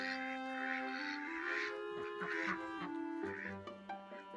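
Ducks quack repeatedly on a farm with a newly calved Jersey cow, a steady chorus of nasal calls at moderate distance over a low background drone.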